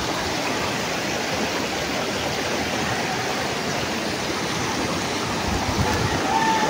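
A river swollen just after a flood rushes past in a constant, dense roar of flowing water, steady and close for the whole stretch, with no voices.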